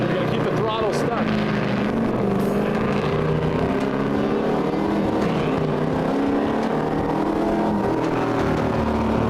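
A drift car engine roars with the throttle held wide open through a broad sweep of a drift course, loud and sustained over the full stretch with a steady high drone, while a person talks over it.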